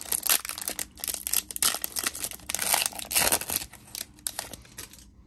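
Retail 2022 Panini Zenith Football card pack torn open and its foil wrapper crinkled, a steady run of close, loud tearing and crumpling bursts for several seconds with no speech.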